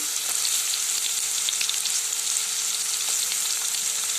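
Garlic sizzles in hot oil in a pan for a dhaba-style paneer masala, a dense, steady, close frying hiss with faint stirring ticks and no voices.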